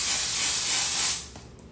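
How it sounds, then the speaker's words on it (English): Self-tanning mist sprayed onto the face from a pump bottle: a single sustained loud hiss lasting over a second, then cutting off, followed by faint handling noise, with no talking. "So I literally just spray."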